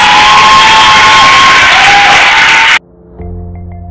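A church congregation claps and cheers loudly in a dense wash of applause and shouts, which cuts off abruptly near the end into near quiet with a faint hum.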